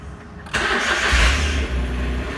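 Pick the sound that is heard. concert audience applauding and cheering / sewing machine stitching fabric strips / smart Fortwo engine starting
smart Fortwo engine starting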